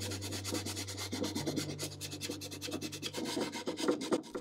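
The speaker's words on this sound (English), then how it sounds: "I did a little more scraping and sanding" Rhythmic rasping strokes of scraping and sanding on an antique French wooden bedside table, steady and close, with a low hum beneath.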